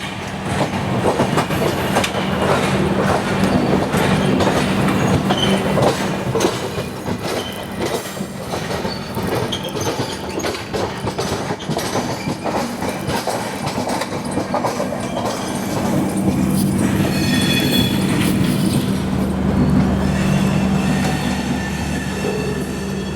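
A train, the Sachkhand SF Express, rolls over a double diamond rail crossing near Delhi station, with a continuous loud rumble, rhythmic clattering wheel clicks and a steady low hum, intensifying again toward the end.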